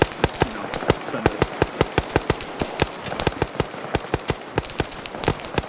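Rapid gunfire from an SCP tactical shooter game cracks in a long, uneven string of sharp shots, mid-distance rounds popping in quick bursts with short gaps and no speech.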